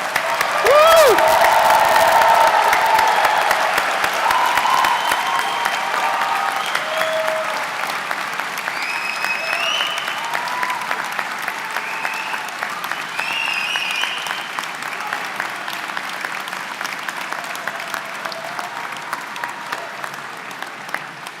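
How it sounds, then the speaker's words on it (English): A graduation ceremony crowd honouring computing and engineering graduates bursts into loud sustained applause and cheering, the clapping strongest at the start and slowly thinning while whoops rise above it. "give them the loudest roar and applause you can"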